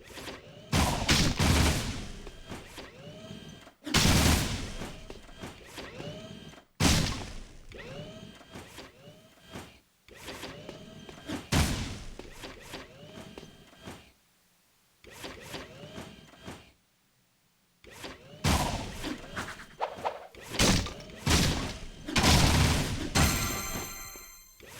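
Repeated loud bursts of rapid gunfire from the video game Jak II, with volleys of several seconds separated by short gaps and one near-silent pause, followed by fast clattering shots near the end.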